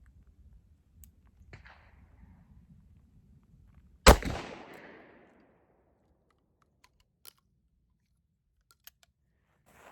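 A Taurus Judge revolver fires one loud, sharp shot at an outdoor range, followed by a brief decaying echo, with quiet clicks and light handling noise before and after.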